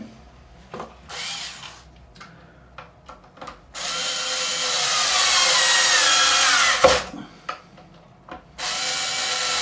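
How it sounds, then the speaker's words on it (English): A power drill drives screws into a guitar neck on a Jaguar/Jazzmaster-style build, with short bursts first, then one sustained whirring run of a few seconds, then further brief bursts, close and loud. "So I'm just putting the neck screws in."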